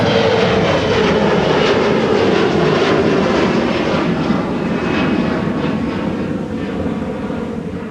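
An airliner departing MSP Airport roars past on jet engine power, a loud, broad, continuous rumble and whine that stays strong throughout and eases slightly toward the end, with no talking.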